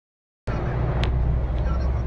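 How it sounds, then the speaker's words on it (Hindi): Steady road traffic of cars and buses rumbling close by, a continuous low engine drone with a faint passing hiss, after a short silent start. "ट्रैफिक ट्रैफिक भाई"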